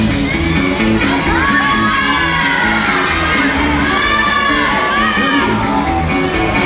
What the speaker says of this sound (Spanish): ¡Venga, el aplauso fuerte!